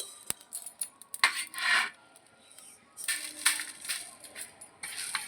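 Lightly roasted whole spices for homemade Maggi masala being poured out of a pan, with dry rattling, scraping clinks and rustling bursts from close by, separated by brief quiet gaps.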